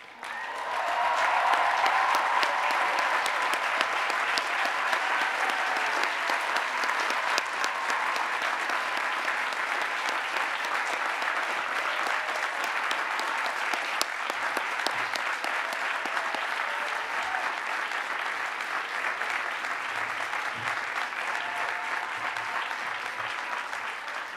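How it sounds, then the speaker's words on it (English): A large graduation audience at Brown University claps steadily and loudly for nearly the whole stretch, a dense, sustained wash of applause from students honoring parents and families, with faint crowd murmur beneath. "stand and be applauded by all of the students"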